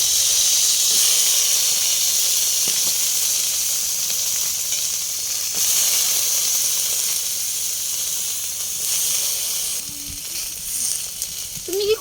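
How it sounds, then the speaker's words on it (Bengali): Eggplant pieces fry in a pan with a loud, continuous hiss and sizzle that holds steady throughout, and a few faint clatters near the end. "এখন হচ্ছে বেগুনগুলো ভেজে নিচ্ছি"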